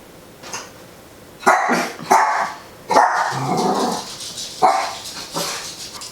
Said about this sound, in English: And the dogs. The dogs.